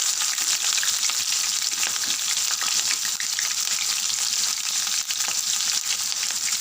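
Mustard seeds, cumin and finely chopped green chilies fry in hot oil in a kadai, giving a steady, dense sizzle with faint crackles and no talking.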